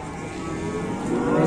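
A very large cow moos in a long, loud, continuous low call at a cattle market, close to the microphone, with no talking.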